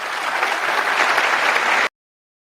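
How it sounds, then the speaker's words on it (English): An audience at a TEDx talk breaks into sustained, even applause, a dense wash of many hands clapping alone with no voices, cutting off abruptly. "Let's listen to the applause for a second."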